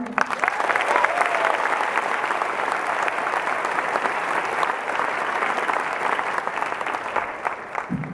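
Audience applause at a school baccalaureate ceremony, a steady dense clapping from a large crowd sustained for about eight seconds without a break.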